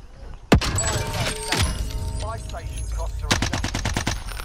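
Gunfire in Call of Duty: Modern Warfare, opening with a sharp loud shot, then a rumbling background of combat noise and a rapid burst of automatic fire near the end, with faint game sounds between.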